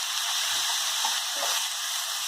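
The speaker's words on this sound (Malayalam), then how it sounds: "ചെയ്ത 4 സവാള അതിലേക്ക് ചേർക്കാം. നന്നായി മൂപ്പിച്ചെടുക്കുക." Four sliced onions fry in a pan for a Kerala-style chicken curry, a constant close bright sizzle with faint scraping of a stirring spoon and no talk.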